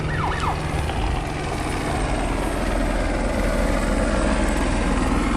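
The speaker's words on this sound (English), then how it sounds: "making an audible siren noise so people know that they're going to be landing." A CHP helicopter makes a low flyby, its steady rotor roar filling the scene while a rising and falling siren wail sounds briefly early on, all loud and continuous with no talk.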